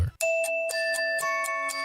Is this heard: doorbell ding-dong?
yes